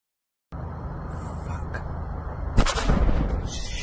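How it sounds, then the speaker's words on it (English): A big explosion in a played video booms in low and heavy after a brief quiet start, followed by a rumbling blast that swells and lingers. "That's a big explosion"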